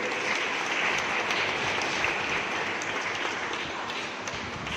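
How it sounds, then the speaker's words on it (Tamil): A congregation at a silver jubilee Mass claps in congratulation, a steady, dense wash of applause that continues evenly from start to finish. "உங்களுக்கும் எங்களுடைய வாழ்த்துக்களை நாம் கைத்தட்டி அவர்களுக்கு தெரிவித்துக் கொள்வோம்"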